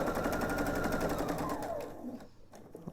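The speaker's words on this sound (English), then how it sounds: "just sew right on top of where you've already sewn" A sewing machine runs steadily, stitching over an existing seam while piecing a table topper, its rapid mechanical rattle loud and close for about two seconds before slowing and stopping.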